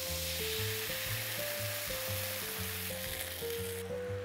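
Veal pieces and white wine sizzle loudly in a pan, a dense continuous crackle with faint stirring, close up and with no voices.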